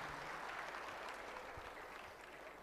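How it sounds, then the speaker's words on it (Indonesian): Audience applause at an Islamic lecture gathering: a dense, steady wash of many hands clapping that fills the whole stretch at even loudness, with no voices on top. "kita berikan tepuk tangan teman-teman semuanya"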